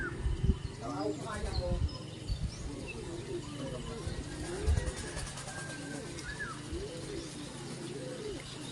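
Racing pigeons coo repeatedly in soft rolling phrases during a club training session in Matnog, mixed with faint chirps, while someone talks quietly over them.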